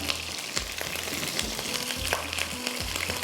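Fish pieces frying in oil for a yogurt fish curry, a loud, crackling sizzle with repeated pops and occasional stirring scrapes, close and steady throughout.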